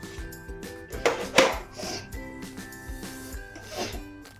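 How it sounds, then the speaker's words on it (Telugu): A kadai being set on the stove, with a few metallic clanks and knocks of cookware, the loudest near the middle, against a quiet kitchen hum with no talk. "ముందుగా బాండీ పెట్టుకుందాం."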